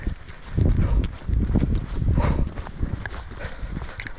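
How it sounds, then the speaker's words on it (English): A person jogging outdoors, with heavy, close footfalls thudding in an uneven rhythm, loud against light rustling. "Oh, I'm flat now, I might jog for a bit."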